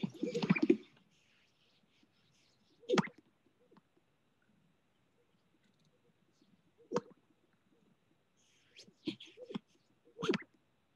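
Sparse bird calls in a quiet outdoor setting: a short burst at the start, then isolated sharp chirps spaced several seconds apart.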